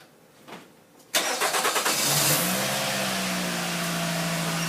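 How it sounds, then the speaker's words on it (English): A 2011 Nissan Rogue started by remote: a faint chirp, then the engine cranks abruptly and catches, settling into a steady, loud idle heard close by. "hit the start key one time, remote whistles, the engine cranks"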